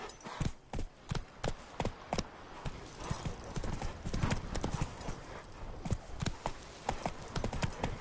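Roach, a horse in The Witcher 3, gallops with rapid, steady hoofbeats, loud and close, in a continuous driving rhythm.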